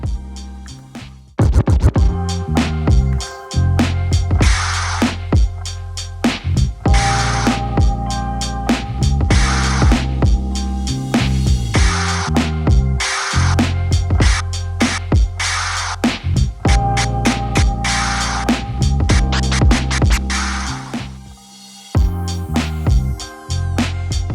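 Rapid turntable scratches cut back and forth over a steady, loud drum beat, repeating in rhythmic bursts throughout.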